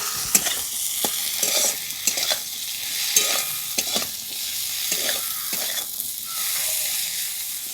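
Chopped onion and green chili sizzle in hot oil in a pan, a steady frying hiss broken by rhythmic scrapes and knocks of a spoon stirring, close and with no talking.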